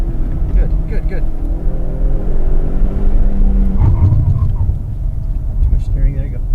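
A car engine drones steadily during a driving lesson, a low continuous rumble with slight pitch shifts as the throttle is eased, heard from inside the car under a voice talking.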